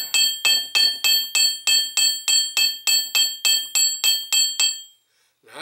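About fourteen sharp, evenly spaced ringing metallic strikes as a hammer flattens wire on a steel plate for earrings, close and bright, then a short silence at the end.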